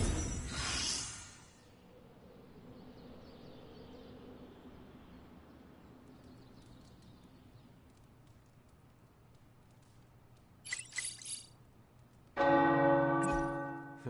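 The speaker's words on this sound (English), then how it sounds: "The tower bells are ringing." Church bells in a tower ring out in the Midnight Suns video game, a loud peal at the start that fades into a long hum, then strikes again near the end with bright ringing tones.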